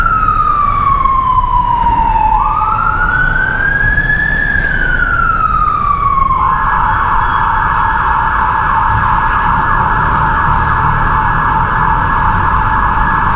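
A loud ambulance siren wails on a city street in Bangkok's Soi Nana, close by and sustained, sweeping in pitch before settling into a steady high tone over traffic rumble.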